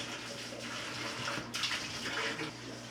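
A water pump fills a pond, sending a steady, rushing stream of water that gushes and splashes continuously at close range, with slight surges in volume and no talking.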